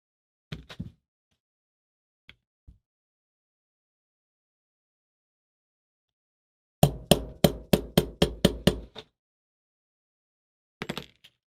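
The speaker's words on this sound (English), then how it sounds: "Need a hammer." A hammer knocks out a trigger pin during a restoration: a few scattered taps, then a rapid burst of about eight sharp metallic strikes, and a final short cluster, close and clear in a quiet room.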